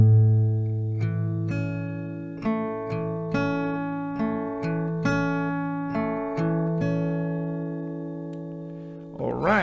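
Acoustic guitar slowly playing the closing part of a song, single notes plucked one at a time with long ringing sustain, fairly soft and unhurried, ending with a short rustle.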